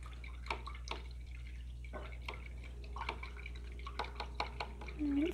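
A paintbrush being rinsed in a water pot during acrylic painting, with soft irregular drips and small splashing clinks close by over a steady low hum.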